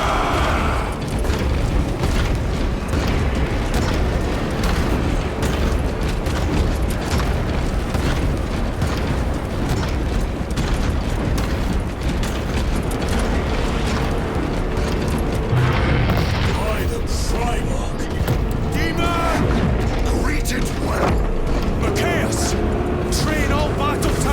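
Artillery fire and explosions from the Warhammer 40000 Space Marine video game form a loud, continuous barrage of booms and bursts over a steady roar, with voices speaking through the battle.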